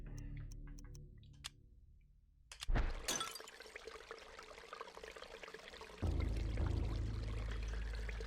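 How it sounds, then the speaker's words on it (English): A ceramic urn slips from stiff fingers and smashes into fragments on a stone floor in the survival horror game Eternal Darkness: Sanity's Requiem, giving a single sharp crash and clatter of pieces over trickling water and a low ambient drone. "the urn slips from Anthony's stiff fingers, dashing itself into fragments as it hits the floor"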